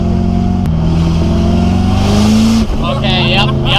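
A vintage Rolls-Royce engine revs hard while driving, a loud, gruff, angry-sounding roar that climbs in pitch, briefly drops off as the revs fall, and then settles back to a rumble, close and dominant.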